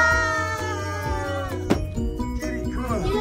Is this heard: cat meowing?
yes